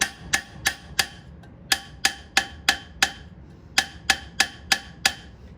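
Hammer blows on metal tubing, flat side of the hammer used, while building a box from tubing: about thirteen sharp ringing strikes in uneven bursts, close and clear, with short pauses between groups.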